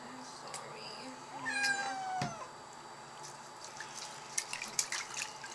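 A kitten being bathed in water meows plaintively several times, with a drawn-out cry, amid dripping and splashing water and faint voices nearby.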